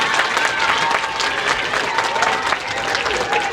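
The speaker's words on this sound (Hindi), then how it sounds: "सर आज़म के लिए भरपूर क्लैपिंग।" An audience claps warmly for a school principal at a Teachers' Day celebration, a steady dense applause with some crowd murmur mixed in, filling the whole stretch without a break.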